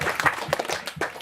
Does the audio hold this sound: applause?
yes